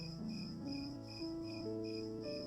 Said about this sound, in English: Crickets kept a steady rhythm, their song blending seamlessly with the whisper of grasses and leaves.